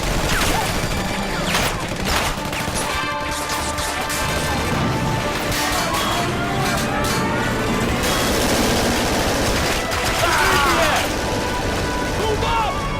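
Dense gunfire rattles through a battle scene, bursts and crashes piling up continuously and loudly with shouted voices mixed in.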